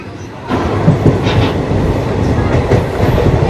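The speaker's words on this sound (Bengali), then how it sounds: "স্টেশনে 5 নম্বর প্ল্যাটফর্মে মোটামুটি 3 মিনিট লেটে এই ট্রেন ঢুকলো।" Express train on the way to Digha rolling along rails and pulling into platform 5 of a station, a steady close rumble with rhythmic wheel clatter that starts abruptly and continues without speech.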